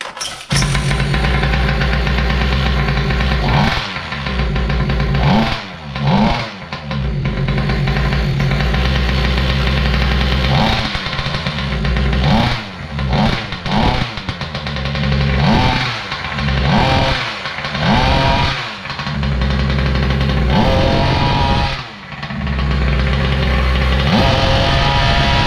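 Raminator engine fitted with an upgraded carburetor and new carbon fiber reeds, running loud and close with repeated revs and sharp drops, sputters and brief cuts between bursts of throttle.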